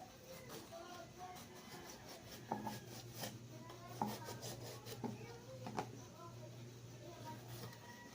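A patola (sponge gourd) being peeled by hand in a home kitchen, soft repeated rasping scrapes close up with a low steady hum underneath and occasional light knocks.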